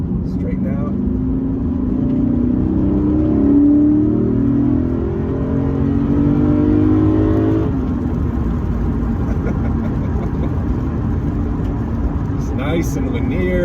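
A 2021 Lexus RC F Fuji Speedway Edition accelerating hard on a track, engine note climbing steadily through the revs, then a shift and a continuing strong drone, loud and close inside the cabin.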